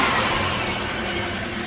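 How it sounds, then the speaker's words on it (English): Turbocharged Pontiac Bonneville with a GT35 turbo, not intercooled and running E85, revs hard in a brief sustained roar with a broad hiss of turbo spool, loud and close. "it'll spool the turbo just by revving it up"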